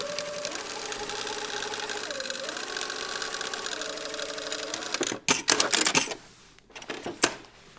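A sewing machine stitches an exposed zipper pocket on a garment, its motor whirring steadily with shifting pitch for about five seconds, then breaking into a few short, loud bursts of stitching and clatter before stopping.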